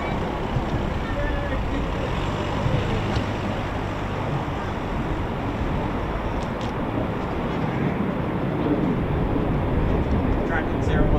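Eurofighter Typhoon FGR4 jet taxiing at RAF Coningsby, a steady broadband engine roar with a low hum, heard from a distance and holding an even level throughout the clip.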